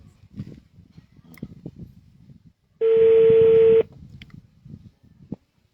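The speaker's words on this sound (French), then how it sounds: "Ça sonne, ça sonne, ça sonne." A telephone call rings as a single steady electronic tone lasting about a second, loud and clear, with faint background voices before and after.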